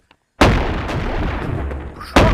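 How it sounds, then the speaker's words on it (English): A shotgun fires in the Animal Company VR game, a single loud close blast with a long rumbling tail, followed by the sharp start of a second shot. "Shotgun is stupid movement item."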